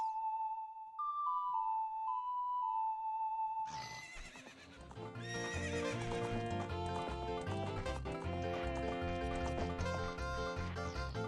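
Horse neigh in the video game Ocarina of Time, a short electronic tone sequence followed by a whinny and game music, loud and continuous with no talking.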